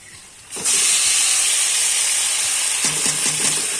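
Marinated chicken drops into a hot pan of fried onions, and a loud hiss of sizzling erupts suddenly and holds steady, with a few faint knocks of a spoon toward the end.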